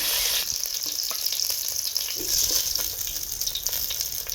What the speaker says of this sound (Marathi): आता ही वांग तेलात टाकायचं